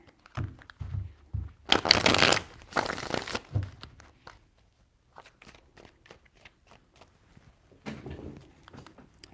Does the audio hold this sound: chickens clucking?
no